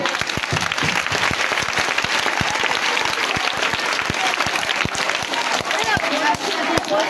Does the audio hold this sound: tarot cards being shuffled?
no